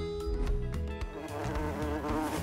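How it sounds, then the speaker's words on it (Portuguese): A large bee buzzing in steady, droning tones with layered harmonics, joined by scattered flapping wing beats early on, heard alone without speech. "Uma enorme abelha está sendo má com um papagaio."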